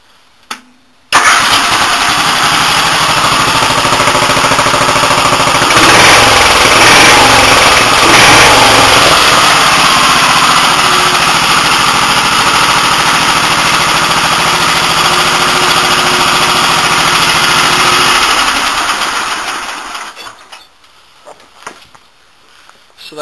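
Montgomery Ward garden tractor engine running loud and steady with a heavy rattle for most of the span, then winding down near the end.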